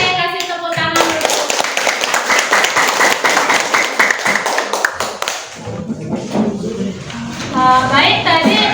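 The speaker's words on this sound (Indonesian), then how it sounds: "Oke, kasih tepuk tangan dulu." Students in a classroom clap after a group presentation, with a dense, lively burst of hand clapping lasting several seconds; children's voices can be heard before the clapping starts and again as it fades.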